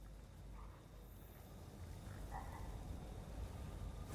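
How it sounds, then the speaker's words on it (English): A frog croaks a few faint, brief times in the distance beneath a constant low background hum, with no voices. "Did I just hear a frog?"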